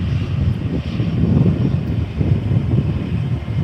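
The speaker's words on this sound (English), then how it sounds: "Here's a Jetstar A320." Jetstar Airbus A320 with wing sharklets passing overhead at an airport spotting site, a steady low engine roar with wind buffeting the microphone, continuous and fairly loud throughout.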